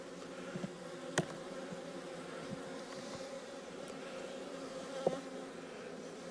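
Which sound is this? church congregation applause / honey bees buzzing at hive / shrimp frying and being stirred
honey bees buzzing at hive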